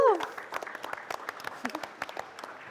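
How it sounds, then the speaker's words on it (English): Audience applause at a live talk, heard as a light, scattered patter of individual claps that stays fairly quiet and distant throughout. "Let's give a round of applause to her."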